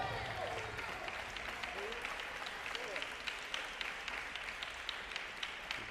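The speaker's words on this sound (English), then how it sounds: "a little bit more applause from the Wesleyan side here" Applause from the Wesleyan supporters at a coed team table tennis nationals match, a steady wash of clapping heard at moderate distance, with sharp ball and paddle taps cutting through and voices murmuring underneath.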